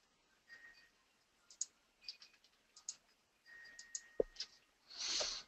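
Computer mouse clicks while selecting several items in SAP Business One with the Control key held, a series of short, sharp, close ticks spaced irregularly, with a faint hum beneath and a louder rustle at the end.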